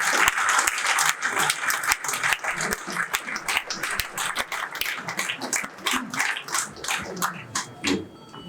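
Audience applause at a literary evening gathering welcomes a guest speaker, dense steady clapping sustained throughout at close range with a few sharper individual claps standing out.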